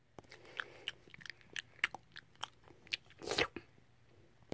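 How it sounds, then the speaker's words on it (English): A dog bites and chews food in a run of wet, crunchy chomps and smacks, close and fairly quiet, with no talking. "She's eating my food!"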